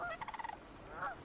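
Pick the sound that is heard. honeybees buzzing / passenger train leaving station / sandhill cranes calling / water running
sandhill cranes calling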